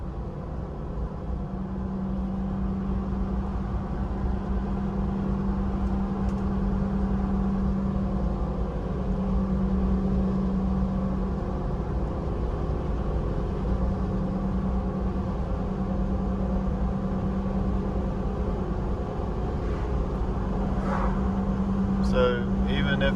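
A Toyota 4Runner drives along a road near the Outer Banks beach after a steering repair, its engine and road noise forming a continuous low drone inside the cabin, while someone talks over it throughout.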